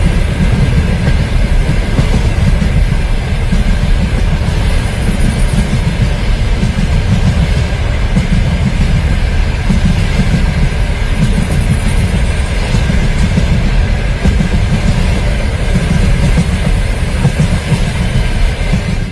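A train sound effect plays on a radio broadcast, a steady, loud rolling rumble of railway carriages with a faint clickety-clack running throughout, with no voices over it.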